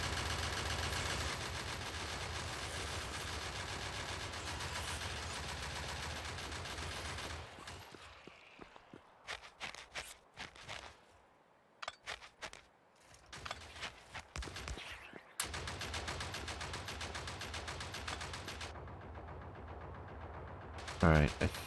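Automatic gun turrets firing in Space Exploration with Krastorio 2, a long loud continuous barrage that breaks into scattered bursts midway, then resumes as steady dense fire.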